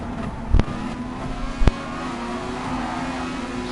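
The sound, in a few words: race car engine revving in Gran Turismo video game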